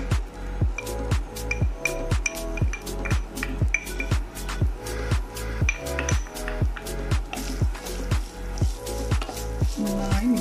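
Chicken frying in a pan for a simple chicken macaroni dish, a steady close sizzle punctuated by rapid repeated metallic clinks of a utensil scraping and stirring against the pan throughout.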